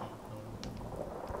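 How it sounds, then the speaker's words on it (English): A thunderstorm in the game Fallout 4 brings faint, steady rain with low rumbling thunder, quiet and continuous, with no voices. "Is there a storm?"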